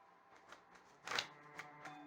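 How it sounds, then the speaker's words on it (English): A deck of pick-a-card reading cards is shuffled by hand, heard as one quiet, brief riffle burst among soft scattered taps, with no talking. "So let's give it a shuffle."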